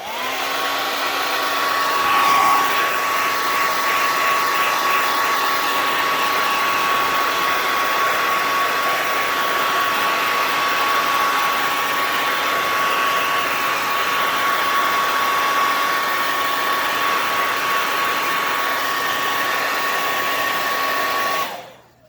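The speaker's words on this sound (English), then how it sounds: "Let me hit this with a little bit of a hair dryer" A hair dryer blows steadily at close range on paint on an N scale model building, a loud continuous whir with a high whine, running for about twenty seconds before switching off.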